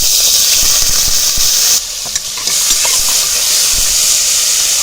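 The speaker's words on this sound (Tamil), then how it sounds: "இப்போ இந்த எண்ணெயிலேயே நம்ம கழுவி எடுத்து வச்சு இந்த மட்டன் சேர்த்துக்கலாம்." Mutton pieces sizzling in hot oil inside a pressure cooker while mutton chukka is cooked, a steady close hiss of frying with light stirring clatter and a short dip in the sizzle partway through.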